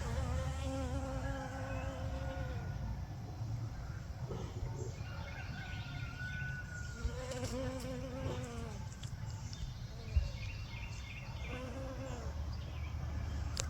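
A honeybee buzzing around onion flowers in a backyard container garden, its hum rising and falling close by and quietly, with faint birdsong in the background.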